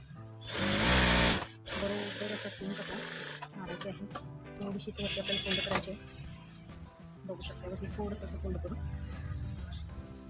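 A sewing machine stitches a one-tuck blouse with a doubled button placket, opening with a loud burst of running and then short, rhythmic runs of stitching, heard near under a person talking.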